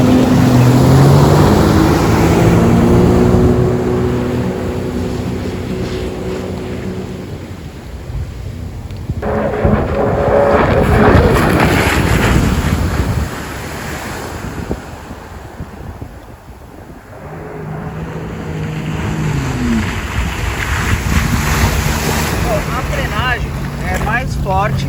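A 2021 Sea-Doo Fish Pro jet ski on open water accelerates hard, then brakes at full power. A close, loud engine whine rises and falls amid heavy wind buffeting and water rush, with a brief lull midway.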